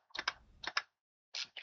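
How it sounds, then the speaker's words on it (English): Quiet bursts of computer keyboard typing in the background, two quick clusters of key clicks separated by brief silence, with no talk. "you can still kind of hear some noise, like how Kit is like typing on the keyboard"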